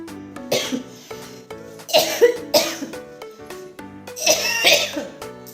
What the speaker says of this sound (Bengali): কাশিটা এত খারাপ প্রচন্ড পরিমাণে কাশিটা হয়েছে